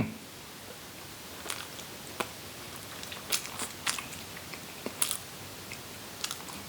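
Someone bites into and chews a sweet cocoa hazelnut spread snack, producing a few sharp, scattered crunchy bites and soft chewing noises up close in an otherwise quiet room.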